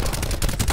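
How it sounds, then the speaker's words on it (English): A sensor dart launched in the shooter Call of Duty: Black Ops 4, a quick, muffled burst of pops and thuds lasting under a second, fairly quiet and with no talk. "Firing sensor dart."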